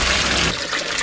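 Very cold, glacial water trickles steadily in a cave, a close, continuous splashing flow with no pauses.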